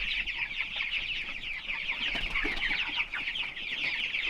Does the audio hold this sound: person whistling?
no